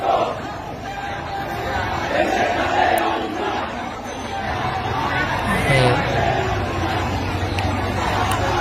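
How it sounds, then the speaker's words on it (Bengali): Students on a protest march at Dhaka University chanting together, a steady roar of crowd voices with shouted slogans rising and falling and some traffic noise beneath. "ঢাকা বিশ্ববিদ্যালয়ের সাধারণ শিক্ষার্থীরা প্রতিবাদ মিছিল বের করেছে"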